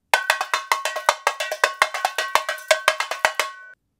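A tamborim is played with a flexible plastic stick held flat in a quick, steady rhythm of loud, ringing hits with a fuller tone, close and alone.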